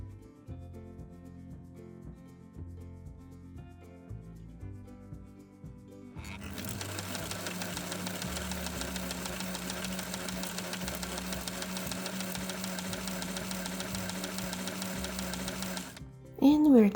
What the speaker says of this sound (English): When sewing denim, it is important to use thick thread and needle.